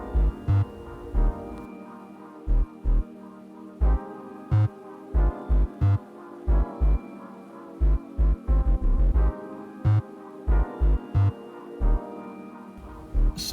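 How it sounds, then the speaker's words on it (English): A sewing machine stitching the back panels of an African men's two-piece top, running in short repeated bursts with brief pauses between, steady mechanical whirring throughout. "I'm just sewing the back panels together"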